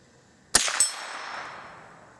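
A single sharp report from a .22 rimfire semi-automatic rifle at about half a second, a second metallic crack close behind it, then a long fading ring in a quiet setting.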